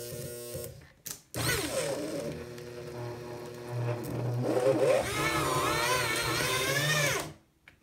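Paper shredder chewing through an aluminium pop can, a loud grinding, straining motor whir that starts after a brief knock, labours unevenly for about six seconds, then cuts off abruptly.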